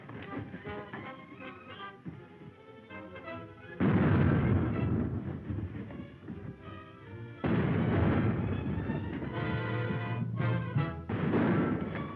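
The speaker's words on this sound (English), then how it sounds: "Stand by for a broadside." Ship's cannon firing a broadside in an old feature film, heard as loud booming bursts that roll over a dense rumbling battle din, with heavy blasts striking around four and seven seconds and continuing steadily to the end.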